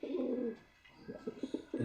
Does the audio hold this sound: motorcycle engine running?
no